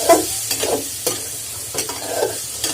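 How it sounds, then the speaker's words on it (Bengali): Vegetables frying in a pan for a Bengali curry, with a steady sizzle broken by repeated scraping stirs at an irregular rhythm, close and fairly loud. "সবজি ভেজে নিলাম"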